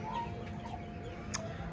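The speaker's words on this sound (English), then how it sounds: "That's one of my regular chickens" A chicken gives a few soft clucks, fairly faint against a steady low hum and quiet background.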